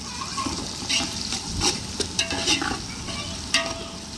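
Sliced onions fry in a pan for mutton biryani with a continuous close sizzle, punctuated by repeated clinks and scrapes of a stirring spoon.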